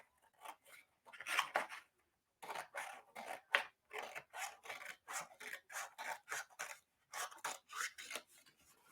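Scissors cut around a paper page with a long run of quick, crisp snipping strokes in short bursts separated by brief pauses, close and fairly quiet, with no voices.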